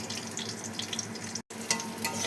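Cashews and raisins lightly frying in oil for Badshahi pulao, a steady close crackling sizzle with soft stirring scrapes, broken by a brief silent gap before the sizzle resumes, no talking.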